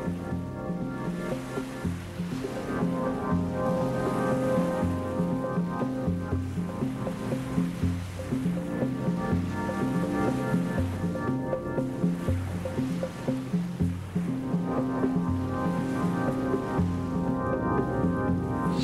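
Pre-monsoon sea waves toss a small open boat far out at sea off India, with a continuous churning wash of water and surging swells, and a steady engine-like drone running underneath throughout.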